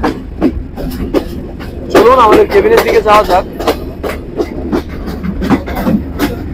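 The Intercity Chitra Express pulls out of Chuadanga railway station, with rhythmic clattering of the carriages and a pitched squeal, close and loud, while someone talks over it.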